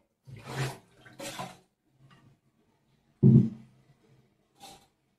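Water poured from a clay pot into a tray, a few short splashing pours in separate bursts with quiet gaps between them.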